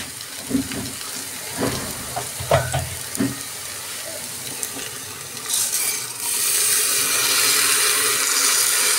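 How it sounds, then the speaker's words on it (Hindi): In a pan of khichdi mixture, a spoon scrapes and clatters in short bursts over a low sizzle. Rice then goes in, and a louder, steady frying hiss swells up and continues close by. "अब ये सब इसके अंदर आ चुका है तो चलिए अब चावल डाल देते हैं"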